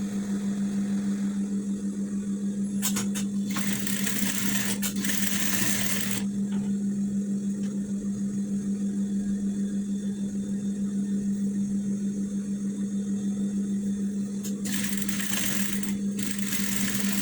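Sewing machine stitching the middle seam of loose trousers, a steady close motor hum running continuously, with brief louder rattling bursts of the needle and fabric at a few moments.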